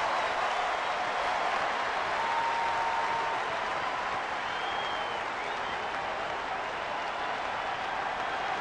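A baseball stadium crowd at a Cubs–Dodgers game keeps up a steady, dense roar of cheering and applause, broad and distant, without pause.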